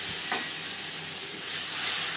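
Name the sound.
frying tomato and green chili paste in oil with nigella seeds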